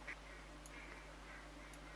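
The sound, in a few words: ducks quacking overhead in the video game theHunter Classic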